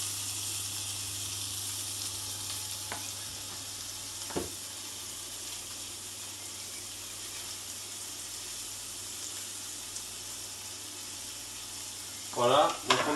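An onion sizzles in a little butter in a pan, a quiet, steady frying hiss that runs unbroken, with a couple of faint clinks and a short burst of louder noise at the end.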